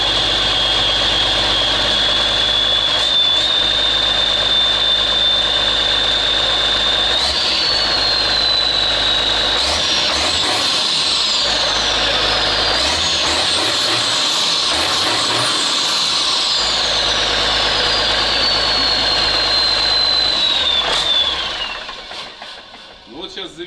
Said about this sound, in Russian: Перед тем, как мы его поставим, решили еще раз запустить, чтобы немножко подсмазался мотор